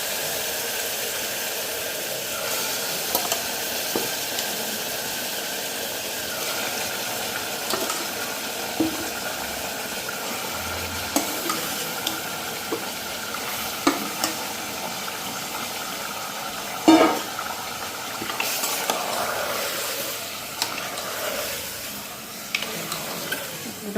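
Goat meat curry sizzles in a pan as it is stirred and sautéed, a steady frying hiss with scattered clinks and scrapes of the spoon, moderately loud over a low background hum.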